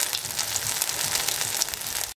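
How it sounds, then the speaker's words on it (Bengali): A polta leaf fritter frying in hot oil in a pan, giving a steady close crackling sizzle that ends abruptly, with no speech. "দিয়ে এটাকে 1 মিনিট ভাজাতে দিচ্ছি।"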